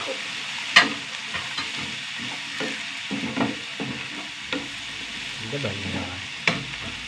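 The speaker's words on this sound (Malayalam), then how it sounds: "ഉള്ളിയൊക്കെ നന്നായി വഴണ്ട് വന്നു" Onions sauté in a pan, sizzling steadily while a spoon stirs and scrapes through them, with occasional louder clinks against the pan. There is no talking.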